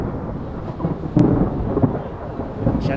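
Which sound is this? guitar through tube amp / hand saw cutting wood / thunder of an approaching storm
thunder of an approaching storm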